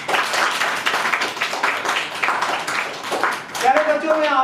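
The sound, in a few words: applause, audience clapping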